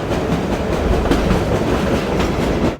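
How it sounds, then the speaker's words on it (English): A train in the video game Half-Life rolls loudly and close, a dense rumbling roar with rhythmic clickety-clack wheel beats running steadily throughout, with no voices. "I'm gonna run you over with my train"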